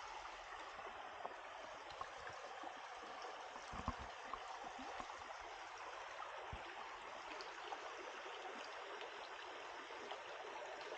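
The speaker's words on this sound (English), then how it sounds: "Right next to Black Creek." Black Creek flowing in the Limehouse Conservation Area of Ontario, a faint, steady wash of moving water with occasional soft trickles and gurgles, no voices.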